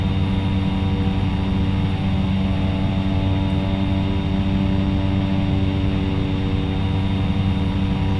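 A bush plane climbing out after takeoff in the X-Plane 11 flight simulator gives a steady, unbroken engine drone with a rich low hum, loud and constant and without voices.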